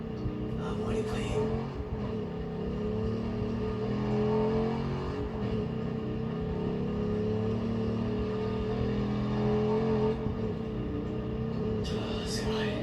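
Car traffic in a video game hums by as a steady, continuous engine drone that swells slightly and holds for the whole stretch, with a voice talking over it at times.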